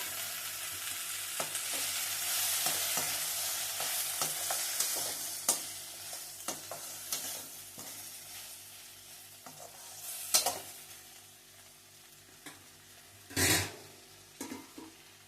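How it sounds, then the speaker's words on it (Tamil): Okra and tomato fry in a pan for a South Indian tamarind kulambu, a steady sizzle running throughout with repeated close scraping and clinking stirs, a few louder knocks of the utensil against the pan. "வெண்டைக்காய் வதங்கிடுச்சு. அது கூட தக்காளி போடணும்."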